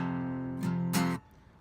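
Electric or acoustic guitar strumming the chords of a song, a sustained chord with two sharp strummed accents, loud and alone, cut off abruptly near the end.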